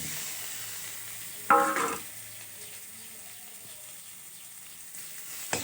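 Hog plum and small fish being stirred in a frying pan: one sharp scrape and clatter of the spatula, then a low, faint sizzle continues alone.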